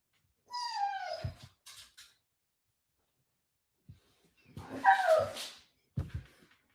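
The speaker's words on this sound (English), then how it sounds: "My dog is talking to me. Do you hear him?" A pet dog whimpers and yips at its owner in short, high, wavering cries, first a run of rising whines, then after a pause a louder burst of whining and a final yelp, fairly close and with no talking.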